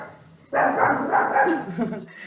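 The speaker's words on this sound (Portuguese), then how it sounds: "Minha cachorra tá latindo, desculpa." A dog barks repeatedly in a fast, continuous burst, close and fairly loud, after a brief quiet start.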